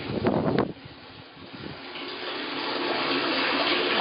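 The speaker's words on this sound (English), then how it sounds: "First water in the septic system." Water flowing into a newly built septic tank: a brief clatter and splashing at first, then a steady, swelling rush of water pouring and gurgling continuously, growing slightly louder toward the end.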